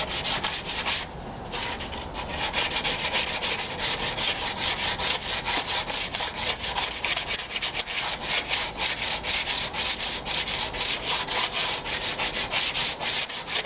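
Sandpaper rubbed steadily over a wooden war club, a continuous dense rasping scrape with rapid back-and-forth strokes, close and alone.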